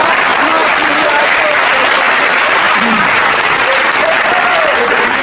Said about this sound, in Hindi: अजय भैया ताली बजाओ